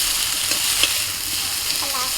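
Eggplant slices frying in a pan over a high flame, a dense, even sizzle close by with faint crackles and a brief scrape, and no one speaking.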